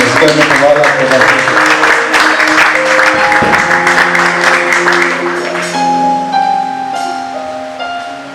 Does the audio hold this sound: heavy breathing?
no